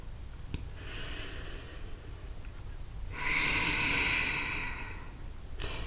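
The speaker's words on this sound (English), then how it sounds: "taking a few breaths here." Slow yoga breathing close to the mic: a brief soft inhale, then a long, audible breathy exhale that swells and fades, with another sharp breath at the end.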